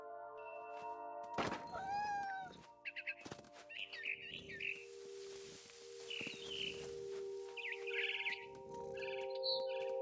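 A frightened barn swallow in What Remains of Edith Finch chirps and twitters repeatedly, with a wing-flap or thunk early on, all set against a sustained musical drone and no talking.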